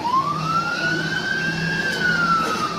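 A fire truck siren holds one long, loud wail that climbs slowly and then falls back, with engine rumble beneath it and no talk.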